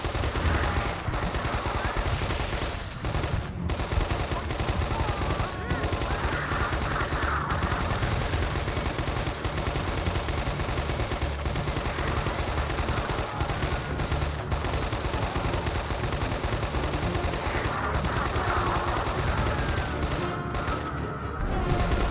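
Sustained turret machine gun fire in the Vietnam War video game Men of Valor at the Battle of Khe Sanh, a loud, continuous hammering stream of rounds running throughout with dense battle noise.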